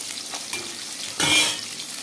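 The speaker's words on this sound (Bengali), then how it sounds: "মাছগুলো আমি এইভাবে পরপর ভেজে নেব।" Fish fries in hot oil in a wok for a Bengali fish curry, a low background sizzle that flares into a loud, hissing burst midway, then settles back.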